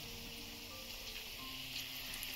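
Raw banana kofta balls fry in oil over medium heat, giving a steady, fairly quiet sizzle that runs without a break.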